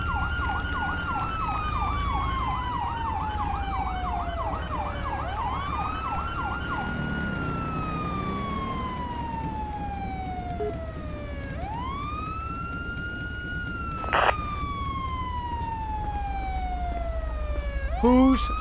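A police siren in the LSPDFR police game wails loudly, switching from fast yelping sweeps to long slow rising and falling tones, with a brief horn-like burst midway and low engine rumble beneath.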